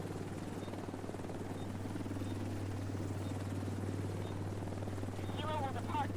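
Extraction helicopter in The Division 2, a steady low rotor thrum holding throughout at a moderate distance, with faint game chirps near the end.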